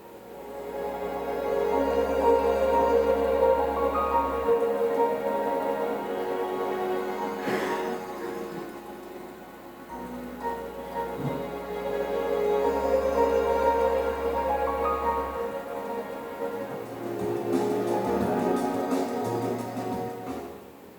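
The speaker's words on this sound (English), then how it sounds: "So hopefully what you can hear is a really sort of distinctive family of sounds that we've created for this" Sonicbrand-designed sound branding for a Marantz product: a sequence of short musical sound logos with airy, spacious tonal textures and deep bass swells, each phrase rising and fading, with no talking.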